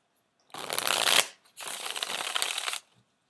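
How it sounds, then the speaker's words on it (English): Deck of playing cards shuffled and cut in a poker-dealer style: two close, crisp riffle bursts about a second each, separated by a short pause, with no talk. "I thought I would, for once, show you how I shuffle and cut."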